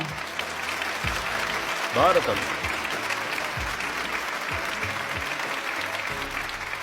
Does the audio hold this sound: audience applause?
yes